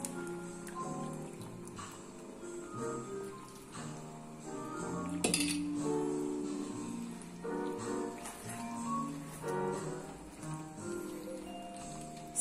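Seafood risotto with octopus broth being stirred in a pan, a spoon clinking and scraping against the metal in a steady, unhurried rhythm over a soft simmer.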